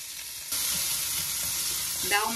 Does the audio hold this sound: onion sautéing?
yes